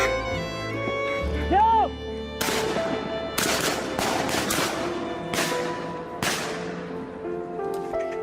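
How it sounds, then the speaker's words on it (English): Hunters fire at wild wood ducks lured low with decoy calls: several sharp, loud shots crack in a quick irregular burst, with a voice talking underneath and a wavering call heard beforehand. "when the distance is right, they will open fire to take down this wild bird."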